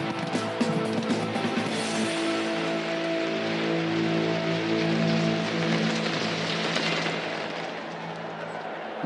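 Steady rain falls across an anime football match, a dense continuous hiss of drops with a low humming layer beneath, loud and unbroken before easing slightly toward the end.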